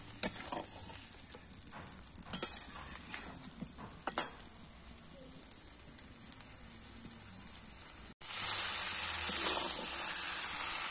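Meat sizzles and fries in a pan for a cauliflower curry, with a few scrapes and stirring knocks early on, then a loud steady sizzle surges up near the end.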